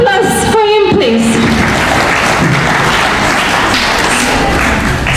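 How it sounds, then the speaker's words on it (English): Audience applause at a college quiz event in Brikama, Gambia: a sustained, dense wash of clapping from a crowd that fills the whole stretch, with a brief voice near the start. "A round of applause for him, please."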